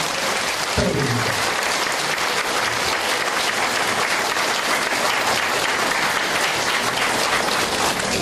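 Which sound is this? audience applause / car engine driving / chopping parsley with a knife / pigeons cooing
audience applause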